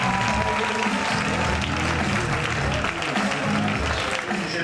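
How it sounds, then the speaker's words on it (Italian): Boxing crowd applauding both fighters after the bout, a continuous, dense burst of clapping from a large audience with a murmur of voices underneath. "meritano veramente il consenso di questa platea che si esprime con un lungo e caloroso applauso ad entrambi"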